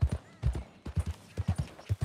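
Horse hooves clip-clop in a steady, close rhythm in the Western game Red Dead Redemption 2, loud and clear across the whole stretch, with no talk over them.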